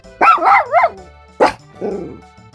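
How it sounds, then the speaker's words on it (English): A dog barks nearby in a quick run of three sharp, loud barks, then gives one more bark and a lower, drawn-out whining yelp. "I love this dog."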